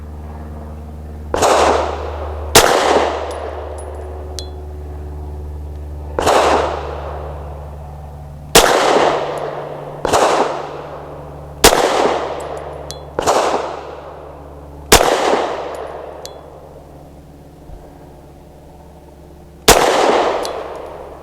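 Pistol shots from a Taurus TS9 fired outdoors at a target, nine sharp loud cracks spaced irregularly a second or more apart, each ringing off in a short decay over a steady low hum.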